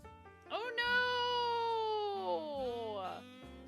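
A domestic cat gives one long, drawn-out meow close by, rising then slowly falling, with faint background hum.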